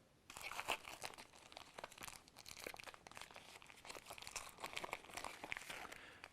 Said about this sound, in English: we'll have to take that off by just peeling off that top plastic layer